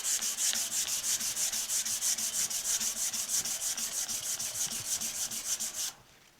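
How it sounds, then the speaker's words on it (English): Fine grit sandpaper rubs in quick, even back-and-forth strokes over the painted body of a Craftsman LT1000 lawn tractor, a close, steady rasping rhythm that stops abruptly near the end. "Got some fine grit sandpaper here. I'm just going to do this a little bit just to see."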